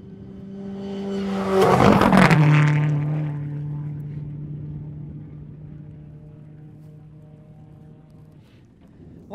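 Rally car passing on a gravel stage of the 2012 Oregon Trail Rally, engine note rising as it approaches, a loud close burst as it goes by, then the pitch dropping and fading into the distance.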